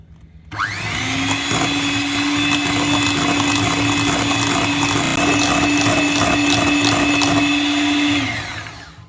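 An electric mixer beating marble butter cake batter, its motor whirring loudly and steadily for about eight seconds after a few soft bumps, then spinning down, with no talking.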